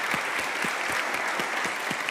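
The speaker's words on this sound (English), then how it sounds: "an applause for our IT technician who has been with us since the morning and is doing a great job" Steady applause from a crowd of attendees at a conference closing ceremony, many hands clapping continuously and evenly for the whole stretch with no talk over it.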